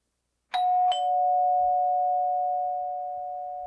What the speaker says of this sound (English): Hey, ring that doorbell again.